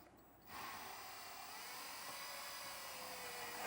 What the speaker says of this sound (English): we can go ahead and drill through the roof with a nice long drill bit